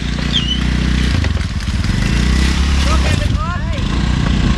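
A motorcycle engine runs with a rough, uneven putter, close and loud, after a typhoon in Siargao, while people talk over it.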